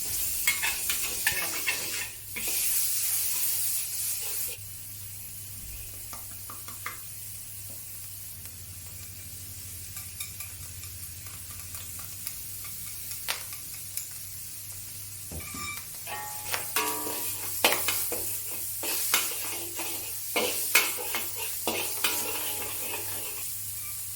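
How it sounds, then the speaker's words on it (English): Pork, dried shrimp, fresh shrimp and mushrooms stir-fried in oil in a wok, with sizzling and repeated scraping and clinking stirs that grow busier and louder toward the end, close up, no talking. "Heat some oil in a wok, add the pork, followed by the dry shrimp, and then the shrimp itself, and the mushrooms."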